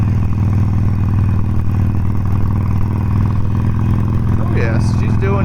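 A Harley-Davidson Sportster Forty-Eight rumbles steadily while being ridden, its low, continuous engine drone loud and close throughout, with a brief higher clatter near the end.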